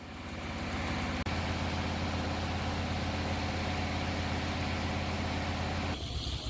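The engine of a rice harvesting cutting machine runs steadily, a loud continuous drone and hum that stays constant throughout and shifts slightly near the end.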